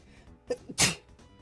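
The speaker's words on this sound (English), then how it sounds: "I like freeze framed there on a sneeze." One sharp sneeze bursts out after a couple of small inhaled catches, close and loud, with near silence around it.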